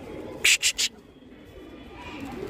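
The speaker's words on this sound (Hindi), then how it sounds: "मैंने सभी पट्ठों को उड़ा दिया है और इसके अंदर दो हमारे न्यू कबूतर भी हैं" Young pigeons take flight in a few quick, loud wing flaps close by. Faint background noise follows.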